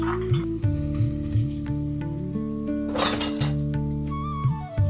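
Onions sizzling in a pan for Karaikudi country chicken soup, a soft steady frying hiss with repeated scraping stirs and a louder burst of sizzle midway, with no talk.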